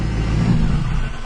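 A car engine runs rough and stumbles as its EGR valve is commanded open, a loud, close, uneven low rumble that sags and falters toward the end.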